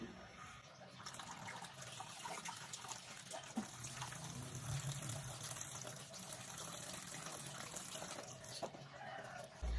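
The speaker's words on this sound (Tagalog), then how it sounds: "hugasan ito at tanggalin ang maruming tubig" Water sloshes and pours steadily close by as rice is washed and the dirty water poured off, a continuous gushing rinse with faint clinks, no voices.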